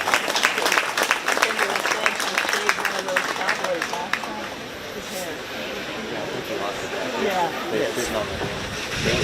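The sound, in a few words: audience applause at county fair show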